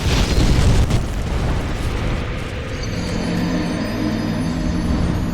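A fire-breathing dragon in Demon's Souls, in early Boletaria: a loud roaring burst of flame at the start that settles into a sustained rumbling rush, with no voices.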